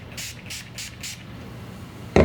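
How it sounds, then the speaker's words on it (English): Four quick hissing sprays of Krispe cleaner mist onto shoes in a steady rhythm, close and clear, followed by a sharp knock or clatter at the end. "Spray this on."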